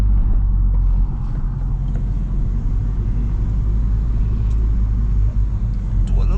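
An R56 Mini tuned to stage 3 accelerates hard, its engine making a loud, close, steady roaring drone as it pulls toward redline. A voice speaks briefly over the engine.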